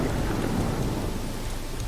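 Rain and thunder in the video game Pathfinder: Wrath of the Righteous: a steady, dense wash of rainfall with a low rumble beneath it, continuous and even throughout.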